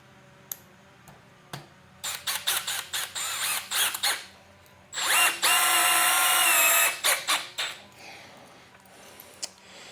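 A Milwaukee M12 installation driver sinks 3-inch GRK construction screws in loud, close bursts: a series of short stuttering whirs, then a longer sustained high-pitched drive, with no talking.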